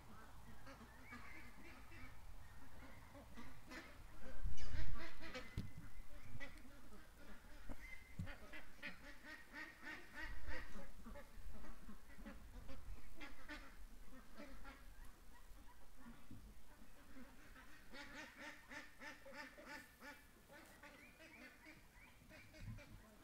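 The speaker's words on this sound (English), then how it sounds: "It's a pretty steady stream of ducks going in." Ducks quack and honk repeatedly at a distance, a busy flock calling in irregular bursts, with people's voices murmuring intermittently underneath.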